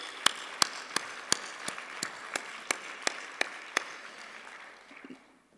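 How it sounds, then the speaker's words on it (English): Scattered, sparse clapping of roughly a dozen separate claps at a steady pace, fairly faint, fading out toward the end, as applause for the winning team at an awards session in a venue. "A round of applause,"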